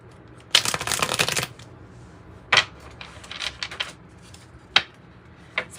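Oracle and tarot cards shuffled in a loud burst of fast riffling, followed by a few sharp, separate card snaps and softer shuffles, without speech.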